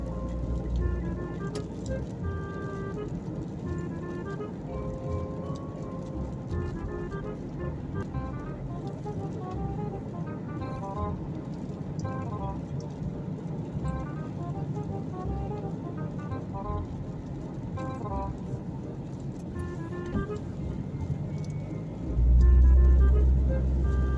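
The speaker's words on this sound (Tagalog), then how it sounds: "Simula na naman yung traffic" Steady morning road traffic in Bahrain on a windy day, a continuous wash of passing cars and engine rumble with a gusty buffet swelling near the end.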